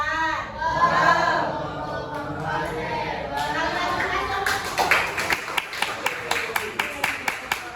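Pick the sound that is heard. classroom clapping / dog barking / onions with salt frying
classroom clapping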